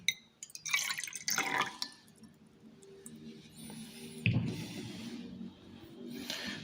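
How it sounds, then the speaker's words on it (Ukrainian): Water is poured from a measuring cylinder into a calorimeter during a physics lab, with splashing and trickling at the start and a softer pour later. No one speaks. "Переливаємо воду з мірного циліндра в калориметр."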